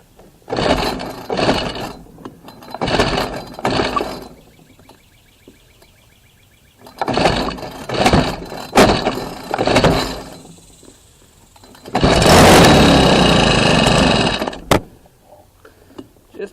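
A Troy-Bilt weedeater engine is pull-started with the throttle held open: several rough bursts of cranking and sputtering, pauses between attempts, then a brief run of a couple of seconds before it cuts out.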